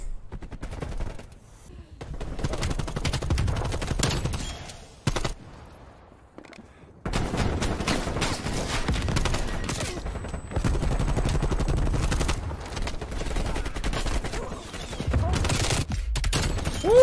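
Rapid gunfire bursts and single shots from a sniper-focused Call of Duty Cold War match, loud and dense with brief pauses, layered over game effects and occasional talk.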